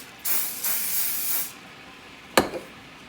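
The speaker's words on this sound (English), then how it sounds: "we're going to hit it with a light coating of cooking spray" Two long hissing bursts of cooking spray from an aerosol can, close by, followed by a shorter quick spritz after a pause, coating chicken before it goes in the oven.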